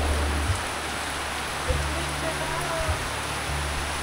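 Heavy typhoon rain in Bohol under storm signal number 2, a dense steady hiss of downpour filling the background, with low hum and faint voices heard intermittently beneath it.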